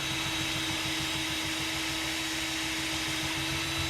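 A rotary stripping wheel grinds paint off an aircraft cowling with a steady, even motor whine and abrasive hiss that holds constant, fairly faint and close, with no talking.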